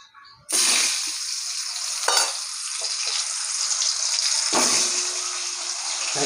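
Green mango pieces hit hot oil already holding lightly fried chillies and five-spice, setting off a sudden loud, steady sizzle with a couple of brief flare-ups as more pieces drop in, close and with no talking.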